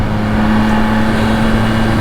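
Engine of a 2024 Yamaha XSR900 motorcycle running, a steady, loud, close drone with a constant low hum and no clear rise or fall in pitch.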